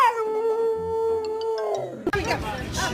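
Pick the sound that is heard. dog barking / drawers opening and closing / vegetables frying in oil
dog barking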